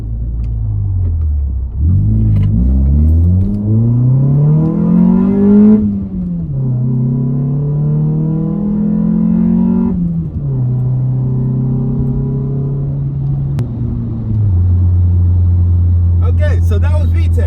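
A sixth-generation Honda Accord engine accelerating in first gear with the AC off, its loud rising drone climbing in pitch through several pulls as VTEC engages, then settling to a steady lower hum, heard from inside the car.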